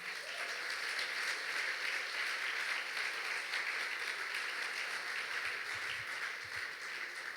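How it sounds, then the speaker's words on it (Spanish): Applause from a church congregation fills the room, a dense, continuous wash of many hands clapping at a steady level throughout, with no speech over it. "¿Puede dar un aplauso al Señor?"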